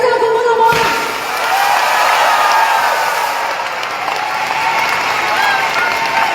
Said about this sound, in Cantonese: 俾掌聲歡呼好唔好啊